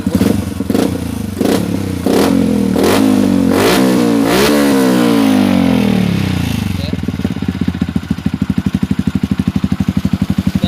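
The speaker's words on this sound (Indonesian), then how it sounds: "ini motornya sudah jadi, sudah saya panasin sekitar 10 menit" Yamaha Xabre motorcycle, fully warmed up, revved in a series of sharp throttle blips that rise and fall before settling into a steady, loud idle with a close, rapid thumping pulse.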